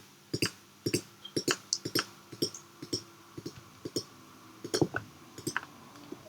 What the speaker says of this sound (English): Let's select all features by left-clicking on them.